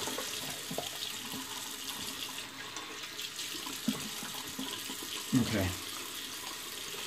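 Running water from a tap while a face is wetted for a wet shave, a soft steady splashing stream with a louder splash of hands near the end, and a brief spoken word.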